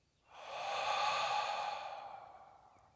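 A person breathing out during a dynamic breathwork exercise: one long, soft, breathy exhale that swells in and fades slowly, heard close and alone.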